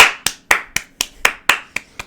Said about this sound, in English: Round of applause, finally.